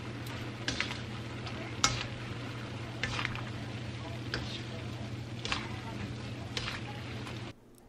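Lo mein noodles and vegetables are stirred in a hot pan, with a soft continuous sizzle and a low hum broken by irregular scraping clacks of the utensil, close and fairly quiet.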